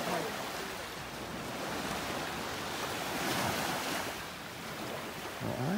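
Ocean waves washing in at the water's edge on a beach in North Naples, Florida, a continuous loud surf roar that swells and eases, mixed with wind buffeting the microphone.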